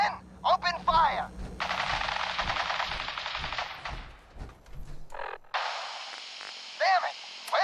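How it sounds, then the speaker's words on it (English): Rapid automatic gunfire bursts out in a Fallout 4 video game battle, dense crackling volleys over a steady electrical hum, broken by short gaps, with game character voices calling out between shots. "Stop or we'll shoot. Men, open fire."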